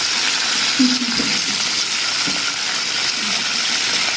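Loud, constant hissing sizzle of a catla fish head frying in spattering oil, with occasional faint pops and a brief low knock.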